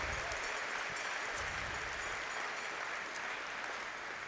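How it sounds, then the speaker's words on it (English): Steady, dense applause from an audience at a volleyball medal match, a continuous even wash of clapping with no pauses. "how about one last big round of applause for the medal matches today?"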